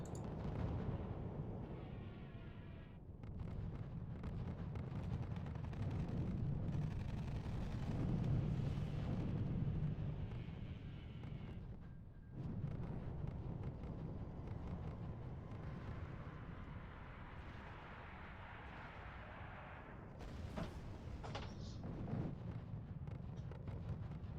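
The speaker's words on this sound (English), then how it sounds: "And now the artillery bunkers die." Artillery bunkers blow up in the RUSE strategy game: deep rumbling explosions roll on at moderate loudness, swelling and fading over a long stretch with no talking.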